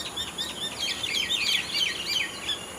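Birds chirp and tweet outdoors in a steady overlapping chorus of bright, quick calls, moderately close and continuous with no talking.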